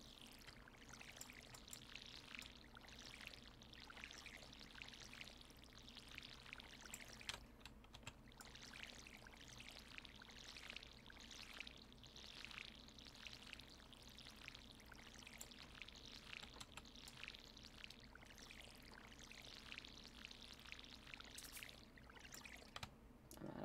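Crops being watered in the farming game Stardew Valley, a faint, steady pouring and trickling that runs on continuously with soft clicky taps mixed in.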